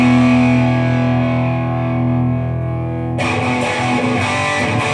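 A distorted electric guitar through a Behringer V-Amp 2 modeler rings out a sustained chord, then switches to the bridge humbucker's brighter, sharper tone with busier, choppy playing for the last two seconds.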